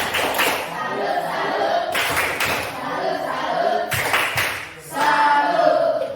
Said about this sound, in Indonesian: Tepuk salut untuk temanmu. Tepuk salut.